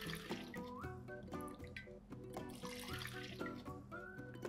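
Water poured into a pressure cooker for sorghum (jowar) khichdi, a steady close trickle and splash with drips, continuous for a few seconds with no talk.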